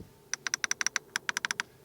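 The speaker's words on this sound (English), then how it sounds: "You have a clicking, a nice clicking sound here for the temperature" Crisp plastic clicks from the temperature control in a 2020 Mercedes GLS come in a fast run of about fourteen sharp ticks close by, with a short pause midway and no talking.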